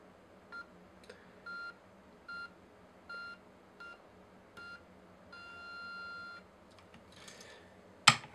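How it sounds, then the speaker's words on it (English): A Yongnuo camera flash gives a series of short electronic beeps in an irregular pattern, then a longer sustained tone and a sharp click at the end, in a quiet room. "It has the beeping sounds."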